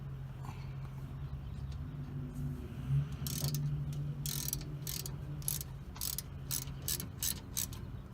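Ratchet tightening brake caliper bolts on a Nissan Altima, first a low mechanical hum and clicking, then a series of quick, sharp ratcheting bursts in steady rhythm, fairly quiet and close.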